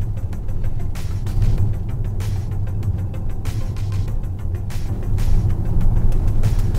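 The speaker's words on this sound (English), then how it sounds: "You hear a little bit of road noise, but other than that, it's completely quiet." Tesla Model S P85 electric car climbing a hill: a steady low tire and road rumble with no engine note, constant and close, swelling slightly toward the end, with no talking.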